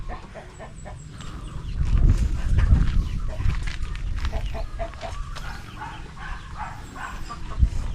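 Chickens cluck and murmur around a farmyard, several birds calling at once amid outdoor shuffling noise.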